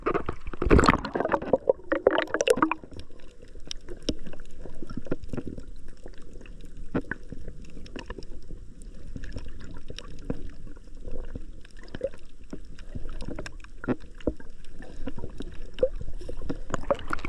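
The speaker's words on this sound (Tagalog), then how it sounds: "Malalaki pa yung alon." Sea waves slosh and knock around a small boat out on rough, still-choppy water on a spearfishing trip off Borongan, with a denser burst of splashing at the start, then a steady, close wash of water.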